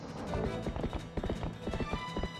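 Horse hooves clip-clop at a quick, steady trot in The Legend of Zelda: Twilight Princess, a close rhythmic patter of hoofbeats with game ambience behind.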